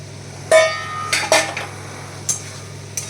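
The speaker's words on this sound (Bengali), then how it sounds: "আর তার সাথে দিয়ে দেব ভেজে রাখা ফুলকপি।" Fried cauliflower and fried potato go into a pan of hot oil for Bengali aloo fulkopi and are stirred, giving a few sharp metallic clanks and scrapes of a utensil against the pan, spaced apart, close and moderately loud.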